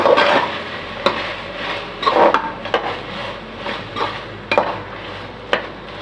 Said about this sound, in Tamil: இதோட 100 கிராம் பன்னீர் விட்டு வதக்கி கொடுத்துக்கலாம்.